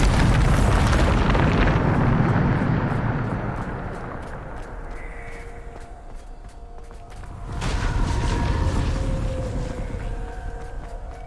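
Bombarder spell blast in Hogwarts Legacy: a loud, rumbling explosion that fades over several seconds, followed by a second booming burst with a lingering tail and faint tonal effects.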